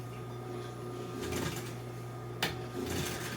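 A sewing machine stitching trim for the interior of a 1955 Chevy two-door post car runs steadily with a constant motor hum, its whirring rising in short bursts with a sharp click midway, close and without talk.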